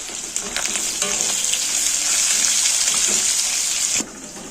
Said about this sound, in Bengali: বাকি কাটা পেঁয়াজটাও দিয়ে ভেজে নেব একসাথে